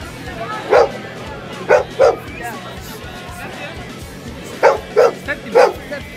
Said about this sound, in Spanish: El perro no se ataca.